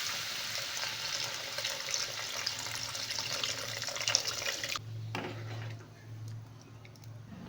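Water pours into a pan of curry seasoned with black pepper as a steady, close rushing splash that stops abruptly after about five seconds, leaving a low hum and faint kitchen clatter.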